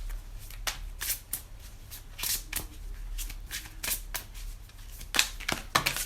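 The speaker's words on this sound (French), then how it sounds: "Vu que c'est un nouvel oracle, il faut bien que je le mélange" A brand-new oracle card deck is shuffled up close, giving repeated quick riffling bursts and soft card slaps in an uneven rhythm across six seconds, with no voices.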